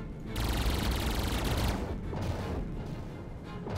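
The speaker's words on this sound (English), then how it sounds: "he's firing like flak or something" Enemy flak fire in the space combat game Heroes of Andromeda, a dense, rapid rattling barrage of bursts that sounds close and loud, then thins out with brief gaps, no talking.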